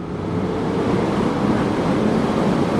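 2016 Zero SR electric motorcycle at full throttle in eco mode, heard as a steady broadband rush of wind and road noise with no engine note, constant and close throughout.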